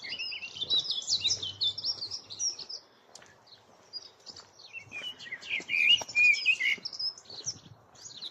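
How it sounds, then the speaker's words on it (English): Dunnock singing at Rainham Marshes in early morning, bright rapid warbling phrases at moderate distance, two main bursts separated by a short lull, over quiet outdoor ambience with no speech. "Got a dunnet singing over there."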